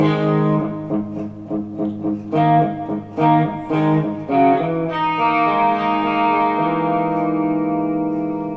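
An electric guitar with effects plays a short riff of plucked notes that settles into a long, sustained chord, bright and washed with chorus and echo.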